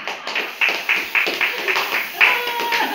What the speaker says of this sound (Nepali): हामी ताली बजाएर यति बेला प्रभुलाई स्तुति गरिरहेका छौँ